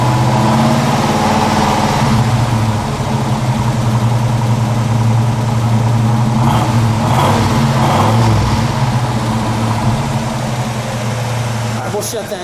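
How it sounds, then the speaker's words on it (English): A 1986 Oldsmobile Cutlass Hurst Olds V8 rumbles at idle up close, then is revved a couple of times before settling back, while people talk nearby. "definitely has that distinctive, identifiable Oldsmobile rumble sound to it"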